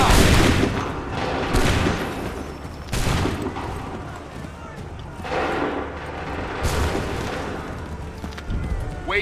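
Musket volleys from soldiers in Assassin's Creed III crack out in several loud bursts, each a sharp crackling wall of shots that fades into rumble, set against constant battle noise.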